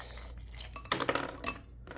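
Ice is added to a glass for an iced strawberry latte, with a quick cluster of close clinks and rattles followed by one more clink, all fairly faint.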